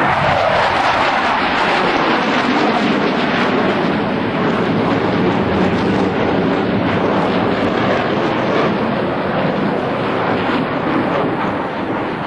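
US Navy Blue Angels jets break away at the 2003 New York International Airshow. A loud, continuous jet roar with a rushing, broadband edge sustains for over twelve seconds, loud and without clear talk.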